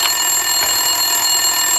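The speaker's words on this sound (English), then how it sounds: "Winterson's phone was ringing." An office telephone rings inside the video game Max Payne 2, a continuous bright electronic trill that holds steady and loud with no voices over it.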